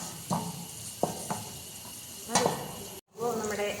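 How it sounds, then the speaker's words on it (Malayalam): Ginger garlic paste sautés in a hot pan for millet biriyani, a steady soft sizzle broken by a few spoon scrapes and stirs, with a brief cut near the end. "ജിഞ്ചർ ഗാർലിക് പേസ്റ്റ് ആഡ് ചെയ്യുക. എന്നിട്ട് അതിൻ്റെ റോ സ്മെല്ല് മാറുന്നത് വരെ ഒന്ന് സോട്ട് ചെയ്ത് കൊടുക്കാം."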